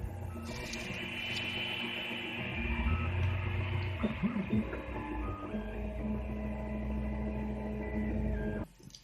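A 3D printer printing a plastic lens plate for a Google Cardboard VR viewer, with a steady close whirring and stepper-motor tones throughout and shifting pitches in the middle, stopping abruptly near the end.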